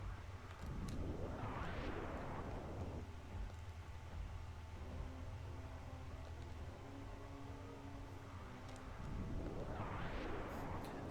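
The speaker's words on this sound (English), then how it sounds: "I didn't realize I still had the power bombs equipped" Power bomb blasts in a Metroid-style video game, each a big broadband burst with a rising and falling sweep, one early and one near the end, over a steady rumbling game soundscape.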